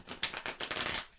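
Tarot cards being shuffled by hand: a quick, faint run of papery riffling and flicking that lasts about a second, with no voice over it.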